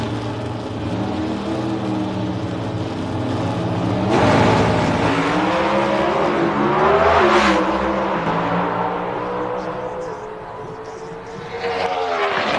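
Loud, sustained roar of Pro Stock drag cars with Warren Johnson's car at the 1997 NHRA Fram Nationals: engines pound and swell, rising to a peak midway, then fade slightly before climbing again, with a faint announcer voice underneath.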